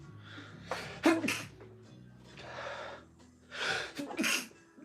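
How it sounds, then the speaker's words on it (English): A single person sneezes close by, with a sharp gasping intake, the burst of the sneeze and breathy follow-through, at moderate volume in a quiet room with no talking. "I'm going to sneeze."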